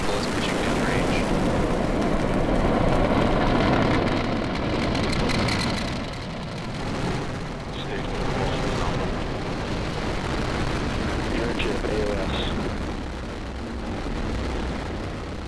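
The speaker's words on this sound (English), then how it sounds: "Ignition, liftoff. We are full speed ahead, and Dragon go Falcon." A SpaceX Falcon rocket launches on the CRS-17 Dragon cargo mission with a loud, sustained crackling roar that stays dense and rumbling throughout, swelling early and then easing slightly, with a voice talking over it.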